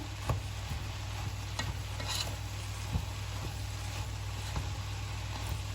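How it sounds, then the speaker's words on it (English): Salted red cabbage being stirred in a hot pot: a steady low sizzle with a constant hum beneath it and soft, intermittent scraping and clinks from the stirring, with no talking. "So just go ahead and give that a good mix in."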